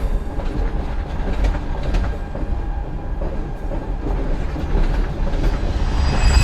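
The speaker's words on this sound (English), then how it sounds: "With no advance warning, this train leaves the station." A freight train rolls out of a station in Mexico, making a continuous loud rumble with rhythmic clatter of wheels on rails and occasional metallic clanks.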